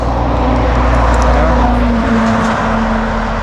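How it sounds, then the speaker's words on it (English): A heavy vehicle, a bus or truck, rumbles steadily past on a mountain road, a loud, close, continuous low engine drone with no pauses. "The bus comes, I hear it."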